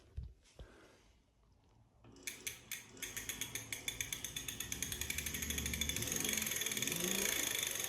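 An ebike hub motor, still without torque arms, spins up under throttle after a few handling knocks: a quickening ratcheting tick that blurs into a rising, steady mechanical whir, close and fairly quiet.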